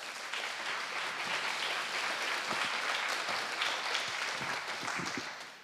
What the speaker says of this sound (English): A big round of applause for our volunteer.